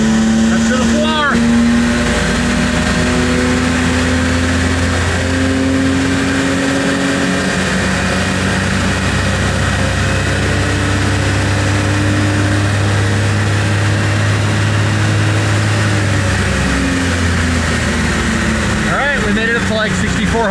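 A truck engine on 40-inch tires is held at full throttle, a loud sustained roar that climbs and holds high revs for most of the stretch before dropping away near the end.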